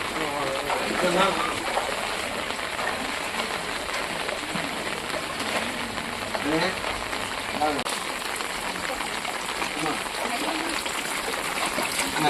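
Floodwater rushes and splashes after heavy rain on Rameswaram island near Mandapam, a continuous watery wash with people talking over it.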